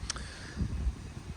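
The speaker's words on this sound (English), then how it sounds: "wow, it is really windy. Hope the noise is not too bad." Wind buffets the microphone in a steady low rumble outdoors among longan trees, with gusty swells and no voices.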